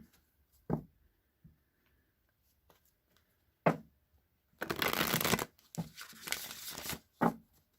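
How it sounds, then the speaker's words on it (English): An oracle card deck is shuffled close by, with a few sharp taps followed by a dense riffling flutter lasting about a second, then a few more short riffles and knocks. "So I'm going to shuffle 3 times, cut the deck, and just draw one card from this deck."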